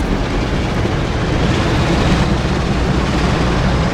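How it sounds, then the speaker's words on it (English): A diesel locomotive in Train Sim World, on a Northern Trans-Pennine route, gives a continuous dense rumble and roar as it runs, steady and close without any talk. "Sounds a little bit like a Class 47."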